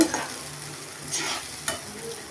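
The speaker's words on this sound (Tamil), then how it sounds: "மல்லி மிளகா அரைச்ச கிரேவியை போடுறேன் இது நல்லா வதங்கணும்" Ground coriander-chili gravy sautéing for a Maharashtra dhaba chicken curry, a soft steady sizzle with a few stirring scrapes and spoon knocks, fairly quiet and close without speech.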